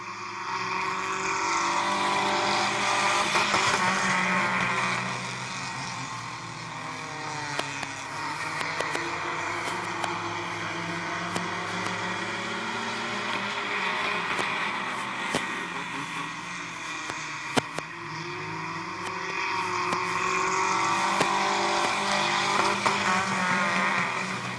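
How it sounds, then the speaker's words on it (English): Race cars in the Fun Pack division roar around the oval at Midvale Speedway during a nighttime eight-lap feature, a dense, continuous engine drone that swells and fades slightly as the pack passes, with no talk. "Green flag is out, and we are rolling for the Fun Packs as Howard Bartholow leads Dan Bucky."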